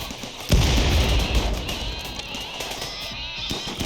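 Grenade blasts in the colony sim RimWorld: a strong thump lands early, followed by a lingering rumble and scattered crackling pops trailing off at moderate loudness.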